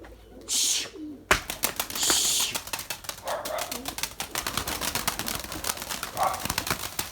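Young pigeons flap off and settle again, with bursts of wingbeats and soft cooing close by over a busy outdoor background.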